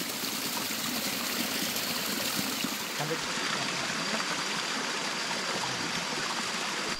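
A mountain stream at a hiking water source rushes steadily, a continuous close hiss and splash of flowing water with no voices.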